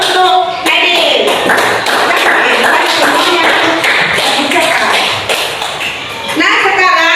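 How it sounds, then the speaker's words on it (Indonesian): A classroom of children applauds with dense, overlapping claps that keep up steadily, with a voice heard over the clapping and through the sound. "Beri aplaus untuk Nadine."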